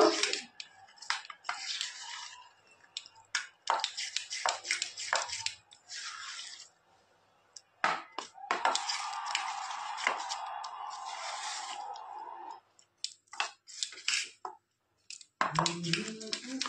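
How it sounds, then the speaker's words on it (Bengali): Semolina being stirred with date palm jaggery in a bowl for steamed sweet cakes, giving repeated scraping and clinking spoon strokes in irregular bursts, close by, with a steadier grinding stretch midway. "ভালো করে মিক্স করব, একটু নাড়াচাড়া করে"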